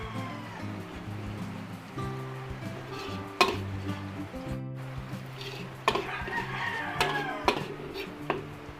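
Garlic sautéing in cooking oil in a pan, a steady bed of sizzle with scattered clinks and scrapes of a utensil against the pan, fairly close and moderately quiet, with brief speech.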